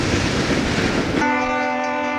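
Westbound Lehigh Valley Railroad train at Race Street, a loud rumbling roar of the passing train that breaks into a sustained, steady horn blast near the end.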